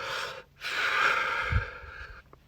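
A deep breath in, then a slow, steady exhale pushed out through tensed lips, hissing and close, with a faint breathy catch at the end.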